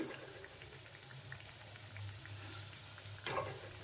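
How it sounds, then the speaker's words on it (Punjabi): Thick-cut long potato pieces for aloo gobhi matar sabzi sizzle in a hot kadai, a steady close frying hiss with a brief clatter of stirring near the end. "ਇਹਨਾਂ ਸਾਰਿਆਂ ਨੂੰ ਆਪਾਂ ਕੜਾਈ ਦੇ ਵਿੱਚ ਪਾ ਲਾਂਗੇ"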